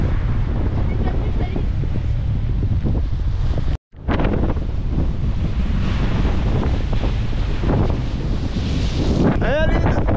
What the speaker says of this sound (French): Je pense que vous allez m'entendre avec le vent